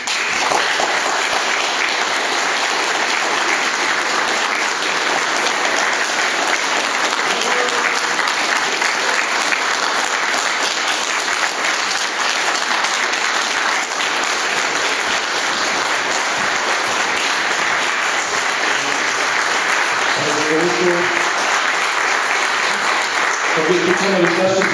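An audience at a New Year local-government gathering applauds an honoree in sustained, dense clapping that stays even and loud throughout, with a voice speaking briefly near the end.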